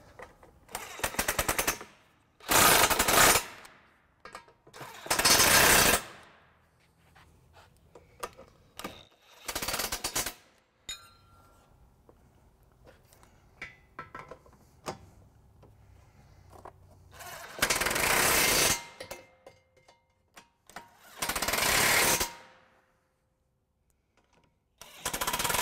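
A power tool tightens trailer hitch bolts on a 2014 Mini Cooper Countryman. Loud, close bursts of rattling, hammering drive come in repeated spurts of a second or two, separated by quieter pauses.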